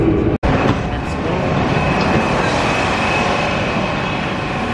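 Singapore MRT train running: a loud, steady rumble and rushing roar with a constant high whine, heard close up from inside or beside the train, with no break.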